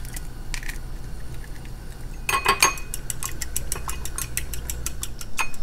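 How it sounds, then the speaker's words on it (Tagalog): Two eggs being beaten in a bowl for chicken carbonara, a quick, even run of light clicking strokes of utensil against the bowl, close and moderately loud, with no talk. "Bati tayo ng itlog."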